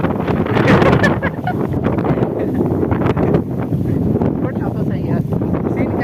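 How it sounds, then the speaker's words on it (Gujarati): Strong gusts of wind buffet and roar across the microphone in an open farm field during heavy rain, loud and steady, with a voice faintly heard underneath. "પવન જો કેટલો બધો પવન ખતરનાક છે."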